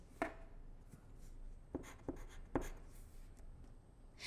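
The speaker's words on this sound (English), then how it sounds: "Find the other pink line and write 14." Pencil writing a number on paper during a math worksheet, a few quiet scratchy strokes and taps, close but faint, with no talking.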